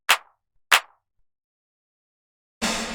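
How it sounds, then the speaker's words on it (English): Two crisp, dry AI-generated clap hits made from a snare drum ring out alone with a short gap between them, then a burst of broad noise starts at the end. "They've taken and made a clap out of the snare"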